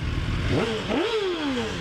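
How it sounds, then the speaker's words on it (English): A BMW S1000RR sport motorcycle engine revs sharply up and down twice, loud and close, with its pitch rising and falling quickly. "There's Mike revving his S1000RR, which is a really badass bike"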